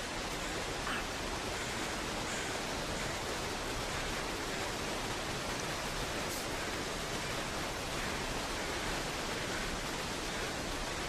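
A waterfall in The Long Dark video game roars as a steady, broad rush of falling water, continuous and even throughout with no other sounds standing out.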